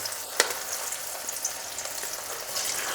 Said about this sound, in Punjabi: ਹੁਣ ਆਪਾਂ ਹੌਲੀ-ਹੌਲੀ ਕਰਕੇ ਇਹਦੇ ਵਿੱਚ ਆਮਲੇ ਪਾਵਾਂਗੇ ਧਿਆਨ ਰਵੇ ਤੇਲ ਦਾ ਛਿੱਟਾ ਨਾ ਪਵੇ ਕਿਉਂਕਿ ਤੇਲ ਹਾਲੇ ਵੀ ਥੋੜਾ ਕੁ ਗਰਮ ਹੈ